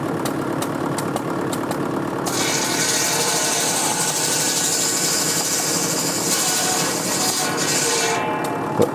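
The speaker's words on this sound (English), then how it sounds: "this is purely a firewood bench really" A vintage firewood saw bench runs on a steady, droning engine while cutting timber, with a continuous mechanical hum and rattle. Bright, whining saw noise rises and falls across the cut, near and loud.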